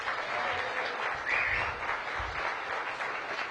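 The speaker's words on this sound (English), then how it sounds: "Please give Latrina a big round of applause." An outdoor audience at the Cedar Hill Regional Medical Center topping-out ceremony claps for hospital executive Latrina Owens, a steady, even burst of applause at moderate distance with brief low rumbles underneath.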